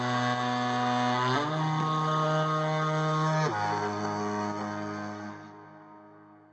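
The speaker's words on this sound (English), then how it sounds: "And what I did here was to record my voice singing," A sung voice holds sustained notes that step between pitches, layered and panned hard left and right, dense and steady before tapering off at the end.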